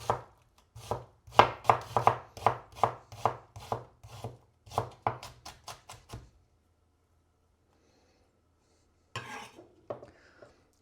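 A knife finely dicing a Spanish onion on a board, a quick run of about a dozen crisp chops over six seconds, then silence and a few more cuts.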